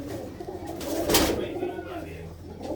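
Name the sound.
pigeons cooing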